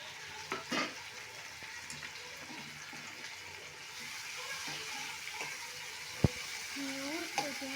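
Tomatoes go into softened onions in a pan for mushroom masala, giving a steady low sizzle with a few stirring clatters and one sharp knock.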